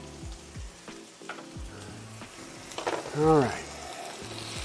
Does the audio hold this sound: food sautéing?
yes